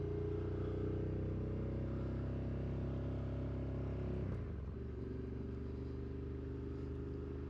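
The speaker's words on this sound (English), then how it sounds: "Riding Ducati through some of the best roads in the first part of January with 2 cameras and a brand new bike" A brand-new Ducati motorcycle cruises along a winding road in January, its engine a loud, steady drone heard from the rider's position, dipping briefly as the throttle eases before holding a smooth hum again.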